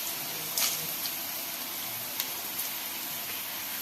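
Whole spices—cinnamon stick, two cardamom pods, cloves and dried coriander—fry in hot oil for a chicken chops dish, a steady soft sizzle with a few brief pops and stirring clinks, fairly quiet and close.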